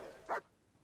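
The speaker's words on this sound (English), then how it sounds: "That was my dog." A single dog bark in the video game Kingdom Come: Deliverance, one short sharp yelp rising over a quiet ambient background before fading back to stillness.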